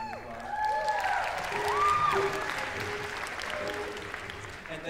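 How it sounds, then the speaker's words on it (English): Audience applause at a solo acoustic concert, sustained clapping with some cheers and whoops from the crowd, moderately loud and continuous for several seconds. "Let's give them a round of applause."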